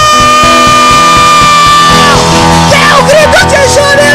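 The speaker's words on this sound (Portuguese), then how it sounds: "Dê um grito de júbilo!" A church congregation shouting in joy, a loud and sustained crowd roar of many voices yelling and whooping together, with rising cheers over heavy sound that fills the room.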